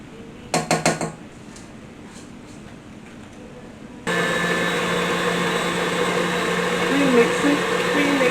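Electric hand mixer whirring through cake batter in a bowl, starting abruptly with a steady loud motor whine that holds and rises slightly, after a few clinks and quiet handling noises.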